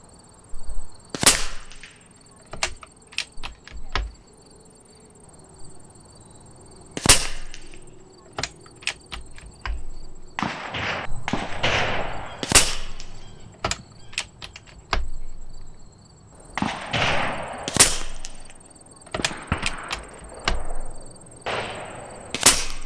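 An Umarex Gauntlet 2 .25 caliber air rifle fires slugs at 75 yards, sharp loud cracks spaced a few seconds apart, each with a faint distant impact, amid quiet outdoor background, with occasional low talk between shots.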